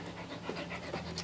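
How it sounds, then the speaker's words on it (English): A pet dog panting in quick, steady breaths close by, faint and unbroken over low background hum, with no talking. "And before you hear is my dog, Bush."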